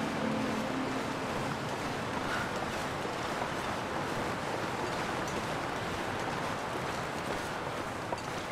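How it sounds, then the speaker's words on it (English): Continuous broadband rushing wind in the video game The Long Dark, steady and fairly loud throughout, with no voices. "Looks like it's getting windy and snowy."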